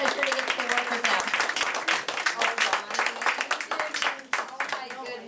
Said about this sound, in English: let's give a great big round of applause to everybody at the show